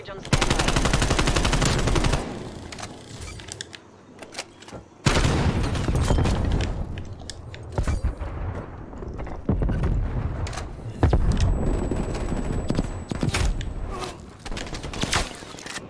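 Bursts of automatic gunfire from the Black Ops Cold War shooter game, loud and dense with heavy rapid volleys separated by brief lulls, close and sustained through most of the stretch, with a voice speaking faintly at moments.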